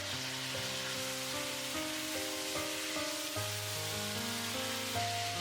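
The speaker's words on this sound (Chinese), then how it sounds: "加入1勺白糖进去翻炒。" Chicken wings stir-fry in a wok with marinade and a spoon of white sugar, keeping up a continuous, even sizzle beneath steady background music.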